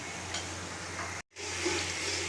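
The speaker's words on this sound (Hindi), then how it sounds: "हम कम से कम 5 मिनट तक हम इसकी भुनाई करेंगे" Beef and spice masala frying (bhuna) in a pan for an aloo beef curry: a steady, close sizzle that cuts out briefly midway, then resumes just as dense.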